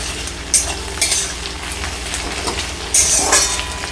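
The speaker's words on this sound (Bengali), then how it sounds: "পেঁয়াজটা এদিকে লাল করে ভাজা হতে হতে" Chopped onions fry in hot oil until reddish for a homemade duck curry, giving a steady close sizzle broken by a few sharper crackling bursts as they are stirred.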